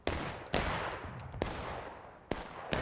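Musket gunfire in a Civil War video game battle: four loud, sharp reports spaced roughly a second apart, each trailing into a rolling reverberant tail.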